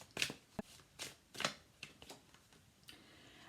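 Tarot cards are shuffled and laid out close by, a quiet run of crisp riffling flicks and soft slaps in irregular bursts, with no talk.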